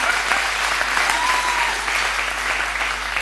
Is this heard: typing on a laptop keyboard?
no